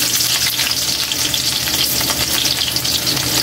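Garlic and ginger sizzling hard in a hot frying pan, a loud, dense crackle with constant bright spattering and no voices.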